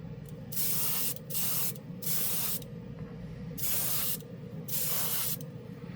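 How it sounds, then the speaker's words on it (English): A $70 airbrush sprays in four separate hissing bursts, each about half a second to a second long, close and loud over a low steady background hum. "Sprays as great as I remembered when I first started using these."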